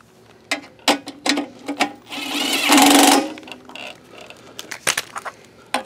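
A power tool drives a tank bolt into a lawn mower, giving short whirring bursts and clicks with a longer steady run in the middle, close and clear with no talk.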